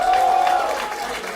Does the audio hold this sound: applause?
yes